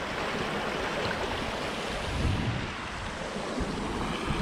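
Water running through a culvert after rain, a steady broadband rushing and gurgling flow, close and continuous with no pauses.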